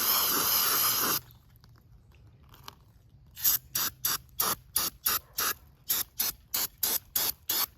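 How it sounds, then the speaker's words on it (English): An aerosol spray can hisses into a carburetor, first in one long burst, then after a pause in about a dozen short, evenly spaced squirts, close and loud. "I'm gonna spray this over this real quick."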